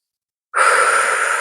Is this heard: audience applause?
no